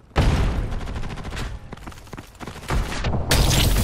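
Rapid bursts of gunfire from the Ghost in the Shell video game, loud and dense with repeated shots and booming impacts throughout, with no talking.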